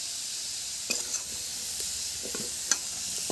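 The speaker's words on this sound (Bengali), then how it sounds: "এইভাবে হালকা করে একটু আলুটাকে আপনারা ভেজে নেবেন" Potatoes frying lightly in oil in a pan, a steady soft sizzle with occasional stirring scrapes and clicks, close and alone with no voices.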